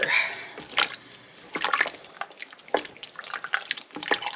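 Chilli base being stirred in a pot, with soft wet sloshing and small splatters, close and uneven, coming in short irregular strokes.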